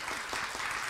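A church congregation applauds for baptisms, a brief, steady patter of many hands clapping heard from a moderate distance.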